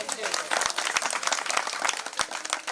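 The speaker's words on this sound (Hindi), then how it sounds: "एक बार पुष्कर के लिए तो ताली बनती है" An audience at a Braj Chaurasi Kos pilgrimage gathering claps for Pushkar, giving a few seconds of lively, uneven applause at moderate distance with sharp individual claps standing out.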